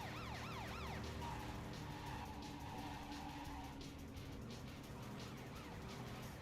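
Wailing video game police sirens in Driv3r sweep up and down near the start, then fade into a continuous mix of engine noise and traffic, fairly faint overall.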